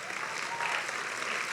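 A church congregation claps in a steady, even wash of applause, the sound filling the room without a break for the whole short stretch.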